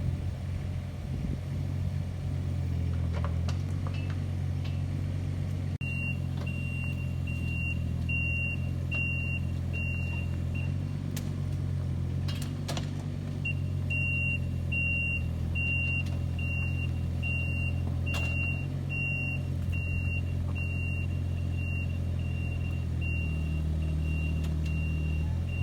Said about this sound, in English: So I use the excavator,